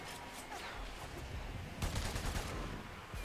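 Dense, continuous gunfire in the video game Warframe, a steady rattling fusillade with a louder burst midway, no speech over it.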